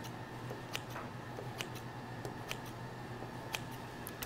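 Scissors snip down through shaped bread dough in a kitchen, giving a few quiet, sparse crisp cuts spaced about a second apart over a low steady hum.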